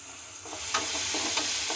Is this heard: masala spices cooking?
yes